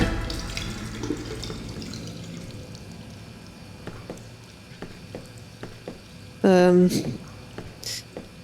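A sink tap in a restaurant bathroom in the game Fahrenheit runs as Lucas washes, with a soft steady stream beneath faint drips and clicks and a sudden louder gush near the end.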